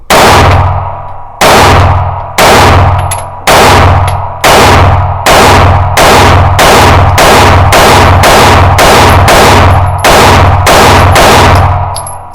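A Sig P365 X Macro comp pistol firing a rapid string of about sixteen loud, sharp shots, the gaps shortening as the shooting speeds up, each shot ringing briefly.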